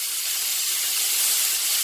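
Steady, loud, bright sizzling from a leg of lamb steak and two sirloin steaks frying in a pan, a continuous hiss with no talking.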